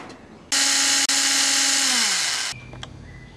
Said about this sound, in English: Start drilling with 116 bits and then go up to 532.